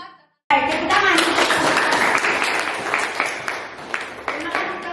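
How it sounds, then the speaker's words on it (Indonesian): A sudden burst of applause from a classroom group, many hands clapping steadily for several seconds, close and loud, with voices mixed in. "tepuk tangan."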